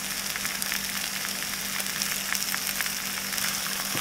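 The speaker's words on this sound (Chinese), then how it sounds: "就翻炒到每一个部分都有这个面粉" Continuous sizzling of potatoes and carrots being stir-fried with flour in a pan, a dense, even crackle with small spatula scrapes throughout and no talking.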